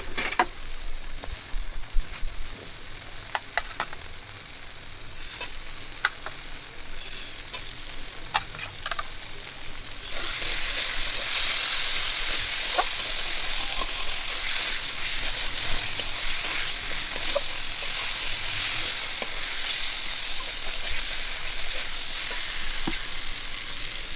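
Masala and potatoes fry for a village-style Bengali egg curry, with spatula taps and scrapes over a hiss for the first ten seconds before the sizzle swells louder and denser, close and steady with no voices.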